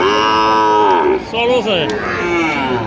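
Sahiwal cattle at a crowded livestock market low loudly in long, close, drawn-out moos, one call running into the next, while people chatter faintly in the background.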